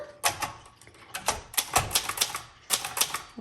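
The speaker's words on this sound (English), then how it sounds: "how hard your type bars are gonna strike the paper" A 1972 Brother Wedgefield 200 typewriter with its type bars striking paper, sharp close clacks in quick irregular bursts of several keystrokes, separated by short pauses, with no talking over them.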